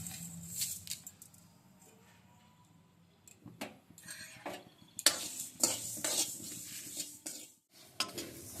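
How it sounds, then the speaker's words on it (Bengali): Whole spices and mustard seeds dry-fry in a kadai for chili pickle, with bursts of scraping stirring and rattling over a quiet sizzle, close and without talk. "মশলাগুলোকে ভেজে নিচ্ছি এখানে কড়াই বসিয়েছি"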